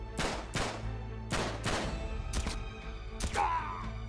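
Pistol shots in the game Uncharted 3, roughly six to eight sharp cracks spaced irregularly over a few seconds over low steady game ambience, with a brief whooshing effect near the end; no one talks.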